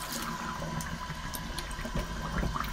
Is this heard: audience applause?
no